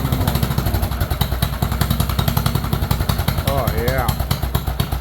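Bolens 38-inch lawn tractor engine idling low with a steady, loud, even chuff, a brief voice heard over it.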